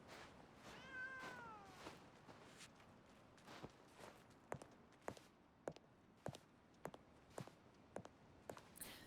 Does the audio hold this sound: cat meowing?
yes